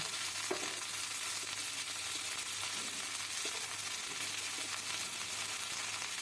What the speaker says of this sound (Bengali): এই পর্যায়ে দিয়ে দিচ্ছি পেঁয়াজের কালিগুলি